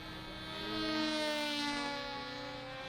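A model plane with a tiny 049 glow engine whines overhead after launch, a thin distant buzz that swells as it passes and then fades a little while climbing.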